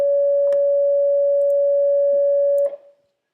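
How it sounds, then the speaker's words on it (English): A steady pure sine tone from a Pure Data oscillator holds loud and unwavering, with a couple of faint clicks, then cuts off and decays briefly into silence. "So that's what a sine wave looks like and sounds like."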